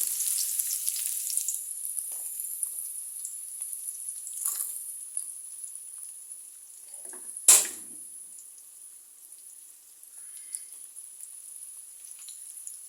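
Dried chilies, nigella seeds, onion and garlic frying in oil for cooking greens, a thin high-pitched sizzle that fades over time, broken by a sharp clatter near the middle.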